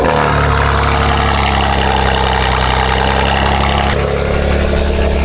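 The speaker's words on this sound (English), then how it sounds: "All right, start your engine" A Lamborghini engine idles steadily and loudly throughout, with a deep continuous rumble that shifts slightly in tone partway through.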